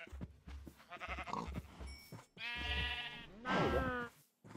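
Sheep bleat in the Minecraft video game, several wavering cries in a row at a moderate level, with other farm animal sounds and brief clicks between them.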